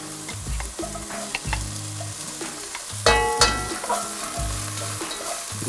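Diced onion fries in olive oil with a bright, steady sizzle that swells louder midway, punctuated by occasional stirring scrapes over soft background music, without talking.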